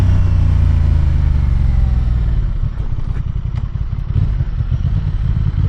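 A Honda Transalp 750 motorcycle is ridden with its engine droning steadily close by, shifting into a rougher, pulsing rumble partway through as the bike changes pace, with wind noise over it and no talking.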